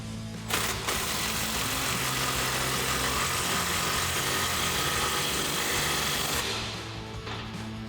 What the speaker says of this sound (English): Now I'm going to take my 15 millimeter,